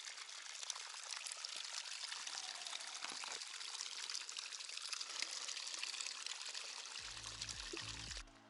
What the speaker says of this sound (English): Oh, the water flows all over the place.